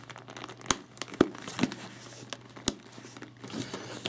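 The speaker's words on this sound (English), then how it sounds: "to close it, you just pull it over and click down the studs" A leather case for a Nikon F3 film camera closed over and its studs snapped shut, with soft creaking and rustling of leather broken by a few sharp, close clicks.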